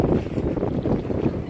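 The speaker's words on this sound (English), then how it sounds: "15-mile-an-hour winds, man." Strong gusty wind of about 15 miles per hour buffeting a cheap toy bait boat out on the water, a loud, rumbling roar of wind noise that rises and falls without any talking.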